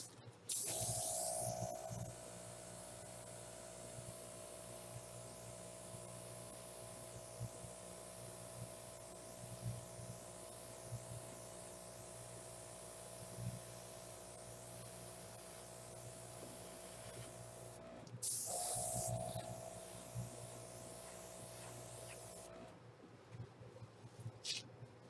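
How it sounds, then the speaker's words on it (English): An airbrush sprays acrylic paint in a continuous faint hiss with a steady compressor-like hum, briefly louder in two short bursts, with no talking. "I'm just going to airbrush it just a little bit"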